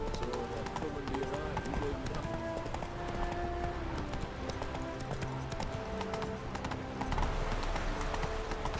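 Horse hooves clip-clop steadily in The Witcher 3, a continuous game soundscape with music and ambient sound layered beneath the rhythmic hoofbeats.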